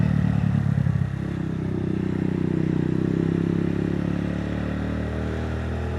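A motorcycle engine hums steadily while riding, with a rattling clatter at first that eases into a smoother, continuous drone.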